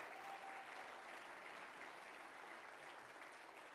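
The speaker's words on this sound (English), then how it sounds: "Give them all a round of applause." A town hall audience applauds for officials with a continuous, even wash of clapping that stays faint and distant throughout.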